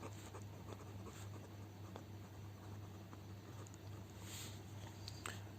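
Pen writing on paper while a trial balance format is set out, a soft continuous scratching close by over steady background hum, with no voices.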